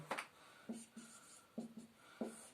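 A pen writes out a matrix by hand, laying down a few short scratchy bursts of strokes separated by brief pauses, close up and fairly quiet with no talking.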